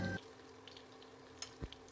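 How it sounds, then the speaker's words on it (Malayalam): Anchovies frying in coconut oil in a pan, a soft, quiet sizzle with a brief louder burst at the start and a couple of light clinks or stirring knocks later on. "ഇനി പാനിലേക്ക് വെളിച്ചെണ്ണ ഒഴിച്ച ശേഷം ഈ നെത്തോലി നന്നായി ക്രിസ്പി ആയിട്ട് വറുത്തെടുക്കുക."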